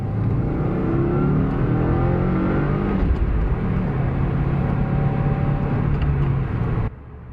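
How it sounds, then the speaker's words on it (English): A video game car engine, from the game Motor Madness, hums loudly and continuously close by, with shifting revving tones as it drives past, ending abruptly with a drop in level. "Oh, a car's coming."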